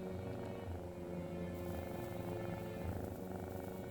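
A cat purrs close and steady, a low continuous rumbling hum that runs unbroken for a few seconds with no voices over it.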